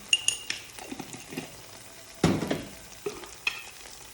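A spice paste with cumin and ginger frying in a pan gives a low crackling sizzle, broken by a sharp metal utensil clink and scrape midway and a few lighter taps after.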